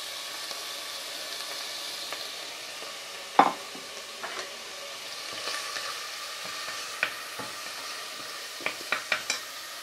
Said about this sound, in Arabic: غندير البصله تشحر شويه